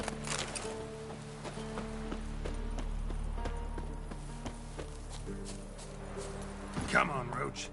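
Roach, the horse in The Witcher, moves with clip-clopping hooves in a steady rhythm under a droning music bed, with a brief louder burst near the end.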